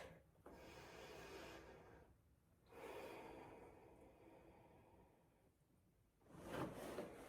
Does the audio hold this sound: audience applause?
no